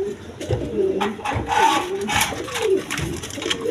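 A pair of Spanish gorgori border pigeons coo close by in repeated throaty bursts, with faint rubbing and shuffling sounds between calls.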